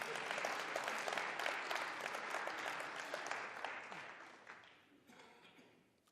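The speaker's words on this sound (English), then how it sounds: "We can clap again." Crowd applause at the 18th Xitsonga Music Awards media launch, full sustained clapping from an audience that gradually thins and dies away toward the end.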